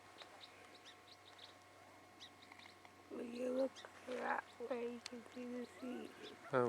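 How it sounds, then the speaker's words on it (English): Bird calling at a quiet seaside spot, a few short chirps and coos in brief bursts, moderately close, with a person talking over part of it. "You hear that bird?"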